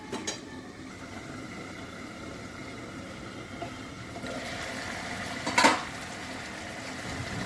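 A lid set down on a cooking pot of brinjal and hilsa fish makes one brief metallic clank over a faint, low kitchen background.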